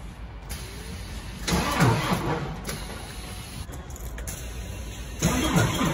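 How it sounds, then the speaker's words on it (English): A Scania truck's diesel engine is cranked over on a weak battery, with two rising bursts of starter and engine rumble over a steady low drone and a high whine, close and moderately loud, with no talking. "Start the motor."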